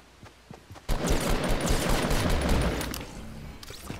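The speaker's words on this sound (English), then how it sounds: "Gunshots over here." Rapid gunfire in Fortnite mobile, a dense burst of overlapping shots that starts abruptly and rattles on for about two seconds before thinning out, loud and close with no talk.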